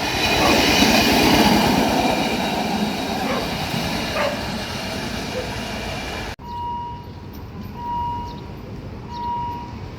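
A KIHA 183 diesel train rolls into a station, with a steady loud rumble of wheels on rail that cuts off abruptly, leaving quieter idling hum and periodic faint tones near the platform.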